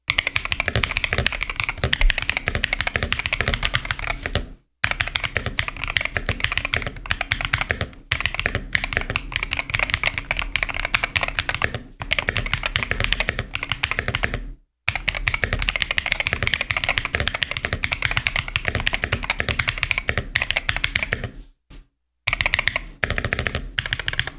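Steady, rapid typing on an EWEADN Battle68 keyboard with magnetic switches, dense soft dampened clacks with brief pauses between bursts, heard up close without speech.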